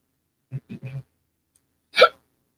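Hiccup, one short, sharp hiccup standing alone and fairly loud, following a few brief murmured voice sounds.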